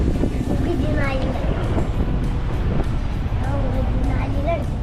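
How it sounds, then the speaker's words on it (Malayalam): Wind buffets the microphone on the lower deck of a houseboat cruising Punnamada Lake in Kerala, a steady rumbling roar throughout while voices murmur underneath. "താഴെ വന്ന് നിൽക്കുമ്പോ നല്ല കാറ്റുണ്ട് കേട്ടോ"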